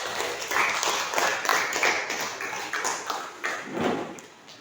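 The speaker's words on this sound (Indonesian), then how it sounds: "Tepuk tangan untuk semuanya." An audience claps together at a training session, a dense, steady patter of many hands lasting the whole stretch at moderate loudness, with a few faint ringing tones mixed in.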